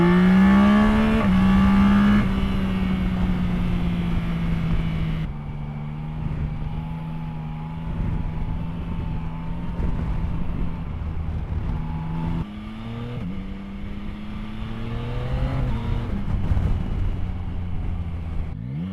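A 2025 Yamaha Tracer 9 GT touring motorcycle accelerates under way, its engine note rising through quick-shifted gears with steep pitch sweeps, loud and close with steady wind rush and no talk.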